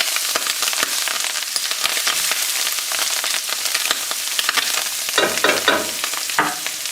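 Shrimp scampi fries in a pan while cilantro is tossed in, giving a steady close sizzle. Stirring scrapes and clatters break through it, and a burst of louder stirring comes near the end.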